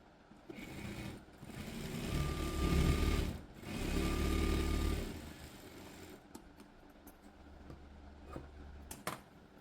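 A sewing machine stitches school uniform pant fabric in two steady close whirring runs with a brief pause between them, then falls quiet apart from light clicks and handling sounds.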